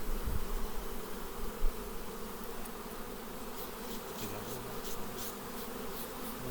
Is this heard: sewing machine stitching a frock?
no